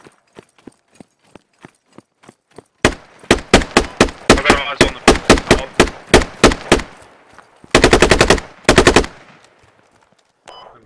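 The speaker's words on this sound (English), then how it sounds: "getting shot by a sniper" Rapid gunshots ring out during a Squad video game competition match, beginning as sparse distant cracks and then building into loud rhythmic bursts of repeated fire, with a dense volley near the end before it fades.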